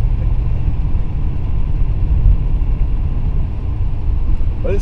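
A car engine drones loudly and steadily from inside the cabin while driving at low revs around 1,500 to 2,000 RPM, a dense low rumble that holds without a clear rise.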